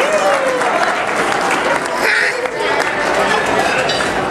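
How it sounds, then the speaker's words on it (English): A room of guests at a wedding celebration gives a round of applause to the women who served the meal, dense clapping that stays strong throughout, with some voices mixed in underneath. "We give them a round of applause"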